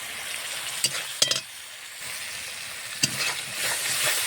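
Spice paste with turmeric powder and salt fries in a pan for a prawn and bottle gourd dish, a steady sizzle broken by a few sharp scrapes of the spoon stirring it, close and alone without talk.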